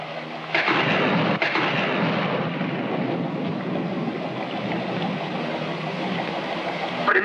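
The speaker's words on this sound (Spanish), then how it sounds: "Mucho me temo que tendremos que luchar contra la tormenta." A thunderstorm rumbles loudly and continuously, with a sharp crack early on and a heavy rolling roar like rain and wind throughout.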